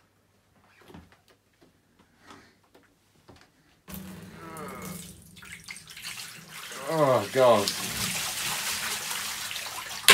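After quiet murmurs, water suddenly pours and splashes loudly, sloshing and gurgling nearby while a voice briefly exclaims.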